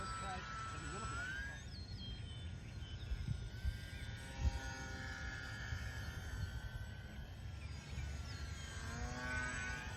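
Lite Ranger 1, a simple quick-build RC airplane, flying overhead as a faint, distant motor whine whose pitch slides up and down as it passes, set against steady wind and outdoor noise.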